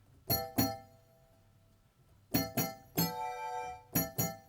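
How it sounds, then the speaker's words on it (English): Bell tone in the style of a Roland D50 synthesizer, struck in short bright metallic hits with ringing overtones, first a pair, then a quick run of several notes, clear and alone. "that's like a D50 bell"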